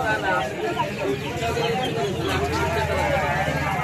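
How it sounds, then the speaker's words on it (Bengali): Chickens cluck and squawk amid a busy poultry and pigeon market on the eve of Eid, with a dense crowd murmur and people talking throughout. "এখানে হাঁস মুরগি আছে, আপনার যা লাগবে হাঁস মুরগি"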